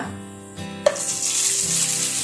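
Cooked rice stir-fried in a wok with golden fried garlic and crisp dried chilies, starting with a sharp clatter and then a loud, close, steady sizzle with no talking.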